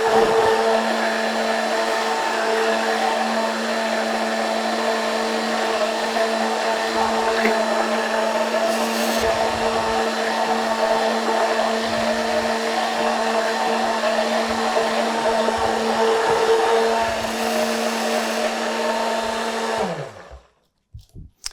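A blender steadily mixes full-fruit strawberry sorbet with a base syrup of water, sugar and pectin stabilizer. Its motor gives a constant loud whir for about twenty seconds before cutting out abruptly.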